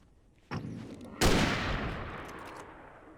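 In the video game Alan Wake, two gunshots are fired at a tire: a sharp crack followed by a louder, booming blast that rings out and slowly decays.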